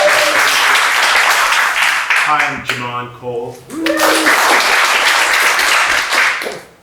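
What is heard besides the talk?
audience giving performers a round of applause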